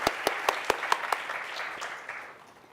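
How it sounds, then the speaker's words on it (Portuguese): Applause from an audience at a media industry event, opening with several sharp, distinct claps in a quick rhythm before thinning into softer, fading scattered clapping. "Era só para aplaudir vocês."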